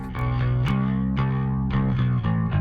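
Electric guitar chords ringing out with a gritty, slightly distorted, compressed tone from the Audio Damage Rough Rider 3 compressor plugin, each strum sustaining evenly into the next.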